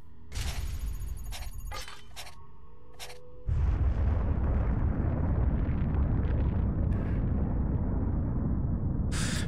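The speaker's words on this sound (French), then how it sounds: "La bombe atomique, bombe, c'est la bomba tsar, je crois, ça." Atomic bomb blast, the Tsar Bomba, in the video game Assassin's Creed 2: a few sharp cracks give way to a sudden, massive roaring rumble that holds loud and steady to the end.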